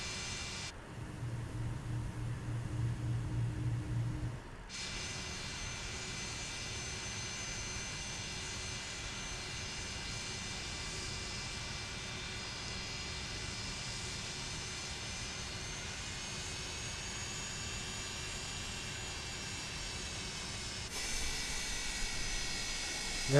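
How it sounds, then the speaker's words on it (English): Airliner engines in Microsoft Flight Simulator hum steadily for over twenty seconds on an NHL charter flight, a smooth drone with a high whine that shifts slightly in pitch, with brief changes in the cabin noise at the start and end. "listen to those engines"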